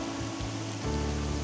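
Small rapids and a waterfall in Linn Park, Glasgow: a steady, dense rush of flowing water, close and fairly loud, with a low broadband roar behind it and no talk.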